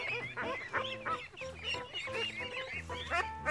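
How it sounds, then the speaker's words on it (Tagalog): Itik Pinas ducks, brown and black and about six weeks old, call close by in a dense run of overlapping nasal honks and quacks, loud and continuous. "Brown at saka itim pala yung... isang buwan at kalahati ito. Itik Pinas."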